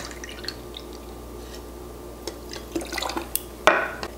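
Wilderton Botanical Spirit being poured for a mocktail, heard as small drips and liquid trickles into a glass with light glassware clinks, building to a brighter clink near the end. Quiet and close, with no voices.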